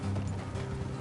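Horse hooves clip-clop on a road in the Western video game Red Dead Redemption 2, a short, steady run of soft, close footfalls with a low ambient hum underneath.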